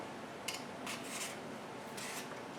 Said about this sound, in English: I'll peel one more so you can see the technique on the peeling